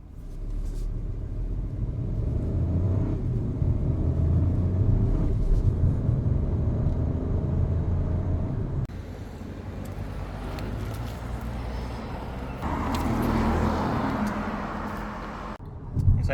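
A 2025 BMW 118 cruising at around 110 km/h on a Victorian freeway, heard from the cabin as a steady low road and engine rumble with tyre roar, shifting in tone as the road surface changes, with no speech.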